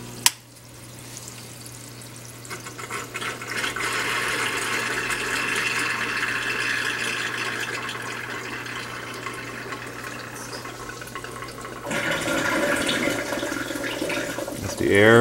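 Water streaming back into an aquarium tank with a BeanAnimal overflow after the return pump is switched off, a steady rushing flow that gurgles on for many seconds and surges louder toward the end.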